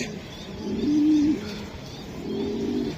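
Two low, rolling coos from a nearby pigeon, one after the other with a short pause between.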